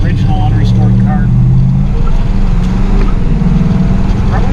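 A 1937 Buick street rod idles and runs with a steady, loud low rumble close by, while people talk over it.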